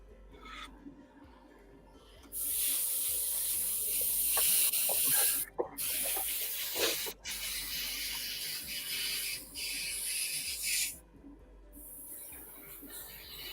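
An airbrush or spray can lays white paint onto an F4U Corsair scale model in long hissing bursts with short gaps between them, loud and close over a quiet room.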